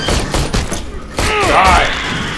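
Gunfire in Aliens: Colonial Marines, a fast rattle of rifle shots mixed with an alien shriek and thuds, loud and close, with players talking.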